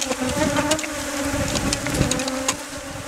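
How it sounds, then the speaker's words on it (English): Bees, including a larger drone, buzz steadily around a bee venom collection trap, a loud close continuous hum with small shifts in pitch and no talk. "This bee here is a drone bee."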